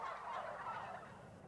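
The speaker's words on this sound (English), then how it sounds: "The wild turkey." A wild turkey gobbles in one rapid, rattling call, clear and alone with no other sounds.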